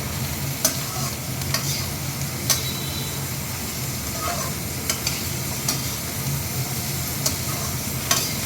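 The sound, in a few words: vegetables (beans, carrot, potato) frying in a pan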